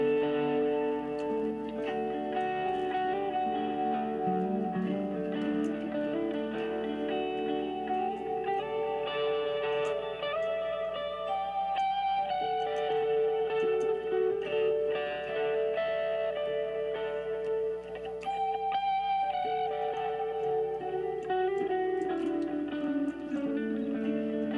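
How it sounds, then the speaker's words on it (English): Electric guitar played through delay and reverb on a Line 6 HX Stomp, sustained notes and chords trailing into repeating echoes and a lingering wash, steady and fairly loud with no talking. "delay and reverb together in the HX Stomp minus the vintage digital sounds like this"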